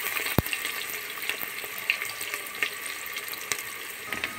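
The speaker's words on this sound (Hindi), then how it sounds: "और अब हम इसे गोल्डन होने तक फ्राई करेंगे।" Chopped onions fry in hot oil in a pan until golden, a steady close sizzle with scattered crackles and pops and one sharp knock near the start, with no talking.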